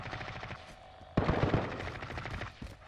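Unsuppressed automatic gunfire in Call of Duty Warzone, one rapid, loud burst of shots cracking close by, layered over steady game ambience.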